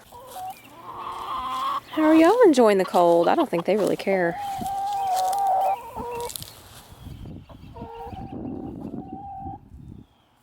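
Chickens cluck and squawk in a busy flurry, close by, with a person speaking over them partway through.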